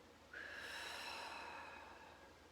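A long, breathy exhale during meditation, starting abruptly and then tapering off slowly over about two seconds. It is close and soft, with a faint whistle-like tone, and there is no talking.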